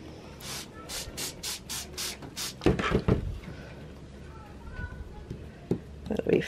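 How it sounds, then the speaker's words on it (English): A hand spray bottle mists water onto a paper towel holding garden seeds, about eight short hissing squirts in quick rhythm, followed by rustling and some talking. "I'm misting it with water."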